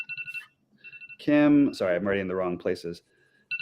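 A phone alarm beeps in short repeated electronic tones at the start and end, with someone speaking over the middle of it.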